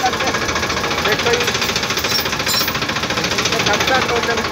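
Farm tractor engine running nearby, a loud steady rapid knocking chug with even pulsing rhythm throughout.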